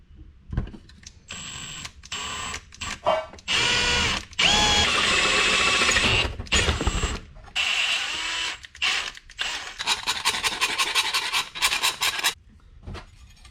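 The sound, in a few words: drilling a hole for a Link G4+ ECU install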